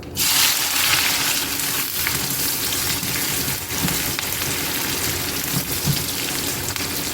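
Onions, green chillies and curry leaves frying in hot oil, a dense, steady sizzle that stays loud and close throughout with a few faint stirring knocks and no talking.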